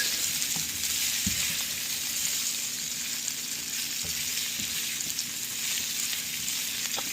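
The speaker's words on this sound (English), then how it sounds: "Into this we add the potatoes. Give it a good mix." Potatoes frying in hot oil for Pindi-style chatpata aloo, a steady close sizzle throughout with a few soft knocks and scrapes as they are stirred in the pan.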